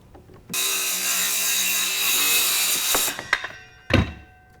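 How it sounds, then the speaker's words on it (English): A saw cuts 45-degree miters through wood for a planter box, a loud, steady rasping run ending after about three seconds, followed by a few sharp knocks and clatters. "we're going to use that as a guide to go ahead and cut all of our miter cuts, along with the clamp"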